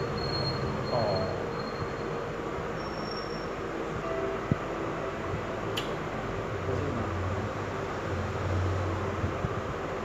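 A train rushes past quickly, a loud continuous rumble of wheels on rails with faint squeals and clicks across the whole stretch.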